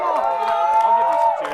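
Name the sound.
audience cheering to vote for a contest winner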